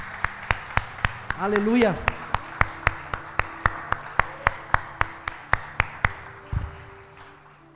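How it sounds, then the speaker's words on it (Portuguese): A church congregation claps in steady, evenly spaced beats to glorify the Lord, crisp claps repeating about three times a second while a voice sings and speaks over them before the rhythm stops. "Glorifique o Senhor com as suas palmas, adore a Ele."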